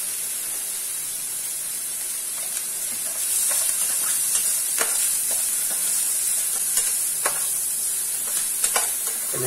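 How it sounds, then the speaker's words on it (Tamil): Ingredients sautéing in a pan with salt and turmeric for puli milagai, a constant loud hiss of frying with intermittent scrapes of a spatula, close by and without speech. "கொஞ்சம் நல்லா வதங்கட்டும்."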